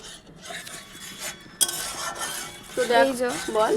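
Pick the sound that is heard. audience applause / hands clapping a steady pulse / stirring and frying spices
stirring and frying spices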